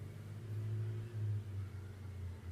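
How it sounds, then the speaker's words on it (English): A big truck rumbles past outside, a low, steady engine drone that swells briefly in the middle and stays muffled and fairly faint, heard alone. "Do you hear that big truck?"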